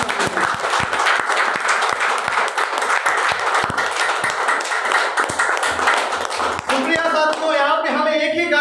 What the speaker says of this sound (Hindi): तो मैं आप सबके लिए चाहूँगा एक जोरदार तालियां, एक शानदार तालियां